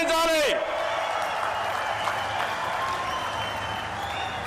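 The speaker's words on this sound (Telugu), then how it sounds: "గట్టిగా చప్పట్లు కొట్టి నరేంద్ర మోడీ గారిని అభినందించాలి." A large crowd at a political rally in Vizag applauds loudly for Narendra Modi, keeping up a continuous roar of clapping. A speaker's amplified voice is heard briefly at the start.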